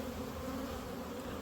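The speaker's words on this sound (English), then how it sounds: "Well, bees are landing on me." Honey bees buzz steadily around newly installed hives on a ranch, a continuous close insect drone with no pauses and no talking.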